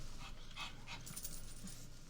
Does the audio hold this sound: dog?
yes